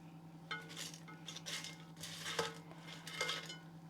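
A Rustlers Irish style chicken spice box of chicken strips, peppers and onions is served up with utensils: quiet, scattered clinks and scrapes of metal against a pan and plate, with no talk.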